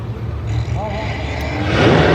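Drag race car doing a burnout at a drag strip, a broad loud engine roar building steadily toward the end, with people talking over it.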